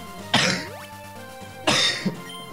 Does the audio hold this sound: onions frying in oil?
no